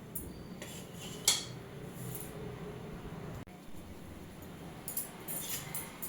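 Dry red chillies being roasted in a pan, with a few sharp metallic clinks and scrapes of a utensil against the pan over a low, steady background hiss.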